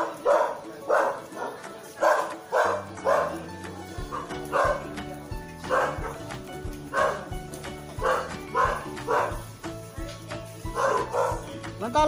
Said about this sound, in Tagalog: Alagang aso, tatahol dito.